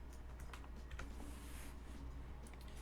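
Someone types on a computer keyboard, soft clicky keystrokes coming in short irregular bursts over a low steady hum, fairly quiet and close.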